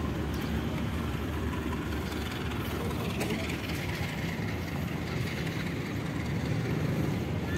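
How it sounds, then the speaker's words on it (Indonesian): A local Bandung Raya commuter train passes at Padalarang station, its loud, steady rumble of wheels and carriages running without break from start to finish. "Ini ada kereta lokal ya."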